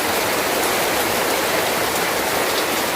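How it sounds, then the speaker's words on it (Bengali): Steady, heavy rain pours down outdoors beside a lit clay cooking stove, a dense continuous hiss with no breaks and no voices. "দেখো কিরকম বৃষ্টি হচ্ছে"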